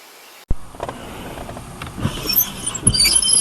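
A bare windshield wiper arm with its blades gone scrapes across the glass of a Toyota Corolla: a motor kicks in abruptly, then a steady, close grinding drag.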